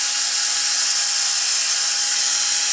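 A small drill with a 1.5 mm bit bores holes around the wheel of a Bruder Volvo dumper toy being converted to RC, giving a steady high-pitched whine that stays close and unbroken, with no talking.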